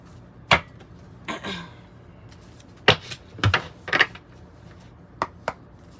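White Light Oracle cards shuffled by hand in a few short bursts, crisp flicks and riffling snaps at close range with quiet pauses between.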